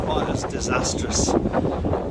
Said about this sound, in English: Whoa, that wind!